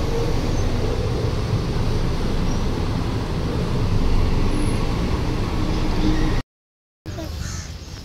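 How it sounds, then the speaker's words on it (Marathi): A car pulls away and travels through busy Mumbai traffic at Marine Lines, its road rumble steady and fairly loud, with crows cawing overhead, before a brief cut to silence and then traffic again. "आमची गाडी मरीन लाईन्सवरून निघाली"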